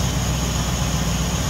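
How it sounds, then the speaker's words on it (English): A 1957 Chevrolet 3100 street rod pickup with a 5.7 liter V8 idles steadily, a low, even rumble close by with no other sounds. "Smooth running engine."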